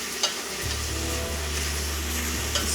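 Pork sizzles steadily in a hot pan for tonjiru as the meat is stirred and broken apart, a continuous close frying hiss with a few soft scrapes and taps of the utensil, no voices.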